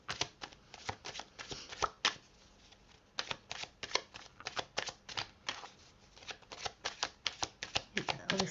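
Tarot cards being shuffled and drawn from a deck during a psychic reading, heard as quick, crisp riffling clicks and snaps in dense rapid bursts, close and fairly faint, with brief pauses between runs.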